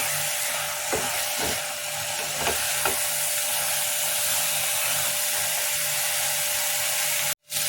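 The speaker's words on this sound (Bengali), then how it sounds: "মশলাটা কষিয়ে নিই।" Masala for paneer curry frying and being stirred in a pan, with a steady sizzle throughout and a few soft scraping clicks of the spoon, no talking.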